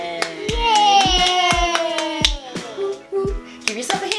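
Quick bursts of hand clapping from a toddler's letter-learning activity, sharp claps repeating in an uneven rhythm close by while a voice chatters and sings over them.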